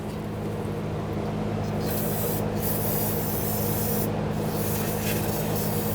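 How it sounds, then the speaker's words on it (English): A hissing aerosol spray of solvent cleaner on a 2006-2014 Honda Ridgeline sway bar bushing area, steady and close, with a couple of short bursts standing out over a constant background hum. "I'm just going to use some spray solvent."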